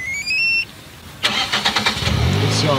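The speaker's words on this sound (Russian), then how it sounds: "Она заводится, стоит, греется 15 минут." A family car gives a few short electronic beeps, then after a pause its engine cranks and catches, settling into a rough idle nearby.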